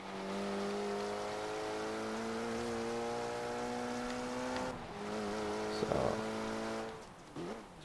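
Audi four-cylinder engine in the racing game Forza Horizon 3, a steady loud drone that dips and shifts pitch, with sharper bursts and a brief squeal near the end.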